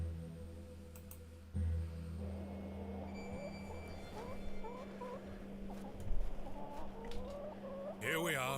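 Chickens cluck in short pitched bursts around a cottage yard in the misty countryside of The Excavation of Hob's Barrow game, soft and scattered over a low ambient hum with a brief swell near the end.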